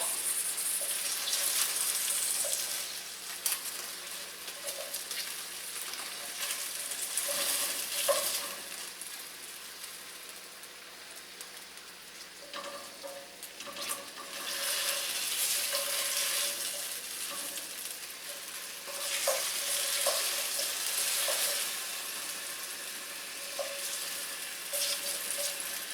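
Prosciutto-wrapped shrimp sizzle and crackle steadily in a hot pan, a loud continuous frying hiss with small pops and brief clinks, swelling and easing over time, with no talk.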